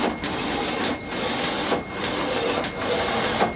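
A brushless car wash machine spraying shampoo onto a car, a steady loud hissing spray with rhythmic pulses roughly every half second, mechanical and continuous throughout.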